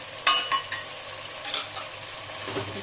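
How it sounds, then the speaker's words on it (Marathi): A spoon stirs capsicum, cauliflower, carrot and green beans in a pan for vegetable pulao, with several scraping clinks against the metal at an uneven pace over a faint background sizzle. "सर्व आपल्याला व्यवस्थित मिक्स करून घ्यायचं आहे।"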